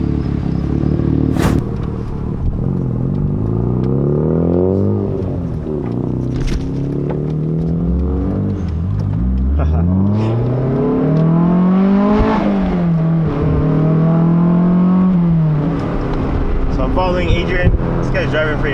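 Mazda RX-7 FD sports car accelerating hard, its engine rising in pitch through several gear shifts, dipping and climbing again in long sweeps, loud and close with people talking over it.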